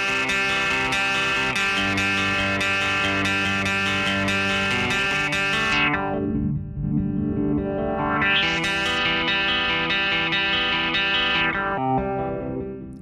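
Distorted electric guitar chords ring out with a gritty, crunchy tone through Guitar Rig 5 while a sweeping filter dips and rises, muffling then brightening the sound.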